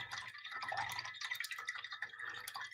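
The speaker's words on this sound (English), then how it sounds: "Gonna rinse out my brush" A paintbrush swished and rinsed in a water cup during a painting session, giving close, continuous splashing and dripping for about three seconds with no talking.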